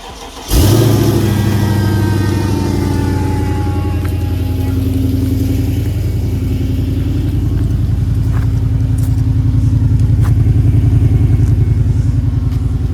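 A supercharged V6 Mercedes-AMG engine fires up abruptly and settles into a loud, deep, steady rumble close by, with slight swells in intensity as it idles and revs.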